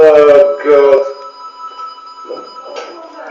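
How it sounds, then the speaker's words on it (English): An indoor telephone ringing in two loud, close bursts of bell tone, followed by quieter background voices talking. "Bloody phone again."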